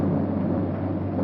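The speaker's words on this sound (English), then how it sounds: "There's that thunder sound." Thunder rumbles in a low, continuous roll, a brief, steady, muffled rumble on narrow-band 1930s film sound.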